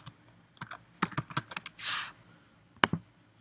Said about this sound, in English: I do have to type them back in